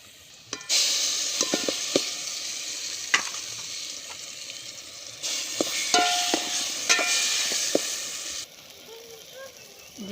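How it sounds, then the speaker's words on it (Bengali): Onion frying in oil on a wood-fired stove for begun bharta, with mashed eggplant added: a continuous bright sizzle punctuated by sharp clinks and scrapes of stirring, swelling louder midway. "পেঁয়াজটা আমরা এভাবে কষিয়ে নিব তেলের মধ্যে"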